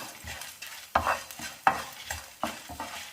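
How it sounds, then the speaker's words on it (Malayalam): Fenugreek seeds frying in hot ghee for a Tamil Brahmin ghee rasam, steady sizzling with a spoon stirring in repeated scraping strokes and sharp knocks against the pan, close and without talk. "ചൂടായിട്ട് ഉലുവ ഇട്ട് കൊടുത്താൽ മതി"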